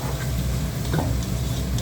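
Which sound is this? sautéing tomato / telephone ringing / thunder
sautéing tomato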